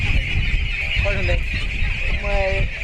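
Ducks on an open-field duck farm give two short bursts of nasal, honking calls over a steady outdoor background, and a faint voice is present beneath them.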